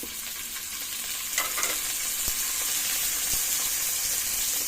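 Chopped onion and tomato frying in a pan, the base for mussels cooked in coconut milk, giving a steady close sizzle with occasional stirring knocks and scrapes and no talking.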